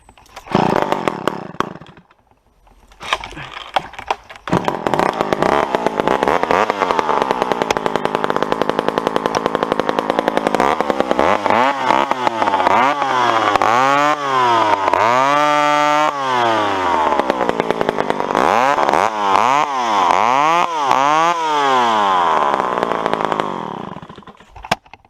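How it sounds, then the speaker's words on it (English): Chainsaw clearing brush and maple saplings, engine revving up and down in repeated bursts as it bites through stems, loud and close throughout after a brief dip early on; no talking. "Okay, so I'm just cutting that stuff down because I'm going to be traipsing all around in here."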